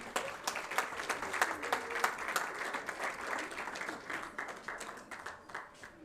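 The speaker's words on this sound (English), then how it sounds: "Big round of applause for the University of South Africa." A seated audience at a formal university research launch gives a round of applause, a busy crackle of many hands clapping at an even level for about six seconds before tapering slightly.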